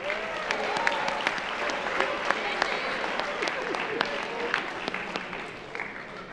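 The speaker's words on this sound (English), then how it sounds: "Another round of applause for this year's Miss Commodore" Applause from an audience at an award show crowning a Miss and Mr. Commodore, a steady wash of many hands clapping for several seconds at moderate distance, with a few sharper claps standing out and faint voices underneath.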